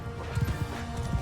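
Hooves clip-clop in a quick, uneven rhythm from horses in the medieval battle game Mount & Blade II Bannerlord, close and moderately loud over a steady low battle ambience.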